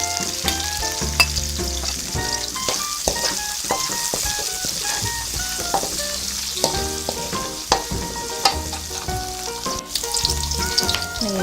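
Garlic and onion fry steadily in a pan with a loud, continuous sizzle and crackle, with occasional stirring scrapes and no one talking.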